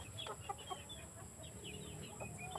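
Young pullets from a gamefowl breeding flock clucking in a steady scatter of short calls, fairly close, with soft farmyard background noise and no talking.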